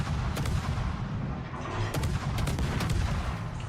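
Naval guns firing in a warship video game, a dense continuous roar of booming shots with sharp repeated bursts, loud and sustained with little talk.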